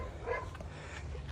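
A neighbour's dog barks and yips briefly in the distance outside, faint and muffled against a low background rumble.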